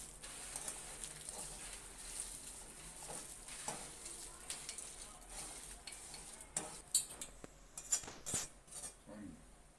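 Puffed rice is stirred together with fried coconut and peanuts, giving a quiet, dry rustle and soft scraping, with a few sharper spoon clinks and scrapes near the end.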